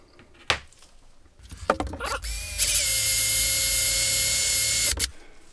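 Power drill boring through metal during cam gear work on an MG TF, a few knocks and short bursts then a steady loud whining drill run of about two and a half seconds before stopping abruptly, close up.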